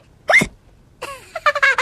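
A child hiccups after gulping juice too fast: a sharp single hiccup near the start, then a quieter gap and a quick run of several short vocal bursts close to the listener, with no talk.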